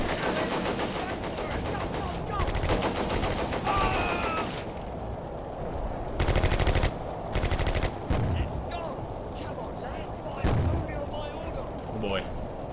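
Gunfire in the WWII tactics game Combat Mission: A Bridge Too Far: several bursts of machine-gun fire and scattered single shots over a constant rumble of battle, loud and repeated across the clip.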